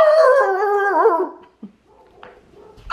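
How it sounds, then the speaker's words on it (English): A dog in a backyard lets out a long whining, howling vocalization that falls in pitch, then breaks into short yips and a final sharp bark, close and loud. "Did you guys hear me trying to talk over this dog in the backyard?"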